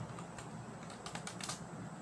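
Typing on a computer keyboard, with quick bursts of soft, close key clicks in an uneven rhythm over faint background hum and no voice.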